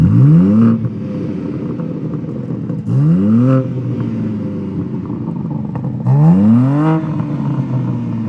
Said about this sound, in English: Trish, want to do a little rev time?